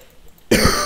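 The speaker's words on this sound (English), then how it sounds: "Oh god, cough again." A single sharp cough bursts out close by after a moment of near silence.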